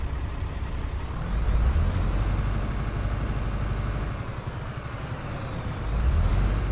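A Mack Pinnacle truck engine with custom sounds in American Truck Simulator revs with the throttle floored, giving a low, continuous diesel drone with a thin whistling whine above it that swells and eases.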